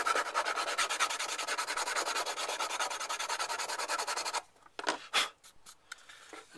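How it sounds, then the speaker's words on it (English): A sanding block rubs back and forth along the top edges of a wooden roof model in steady, rapid close strokes, then slows into a few separate scrapes near the end. "sanding block, just go along the top edges here,"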